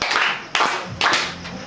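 Children clap three times in a classroom setting, three sharp bursts in a quick even rhythm, close and loud, each decaying quickly.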